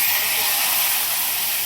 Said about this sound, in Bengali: তেলটা গরম হয়ে গেছে, এবারে আমরা মাছের মাথাটা তেলে দিয়ে দেব।